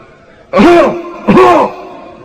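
A man imitates coughing with his voice, two loud hacking bursts about a second apart, close and clear, delivered during a lively sermon-style story.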